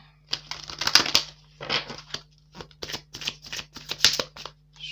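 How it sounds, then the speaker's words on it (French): A deck of oracle cards is being shuffled by hand: repeated crisp riffling and papery slaps in quick bursts, close and fairly loud, with no talking. "Je vais remélanger."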